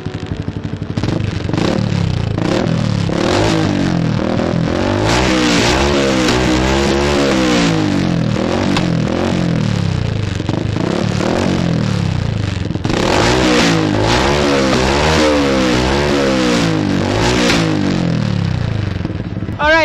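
Sniper 150 motorcycle fitted with a Villain carbon muffler, revved repeatedly up and down in loud close blips, with a rough mechanical rasp through each rev.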